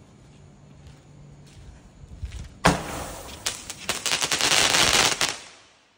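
A string of firecrackers erupts nearby into rapid, dense crackling pops lasting a few seconds before fading, after a quieter lead-in.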